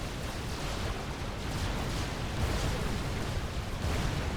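Supreme Commander 2 units blow up in a continuous, rumbling wash of explosions, a dense roar of blasts and debris with no clear gaps.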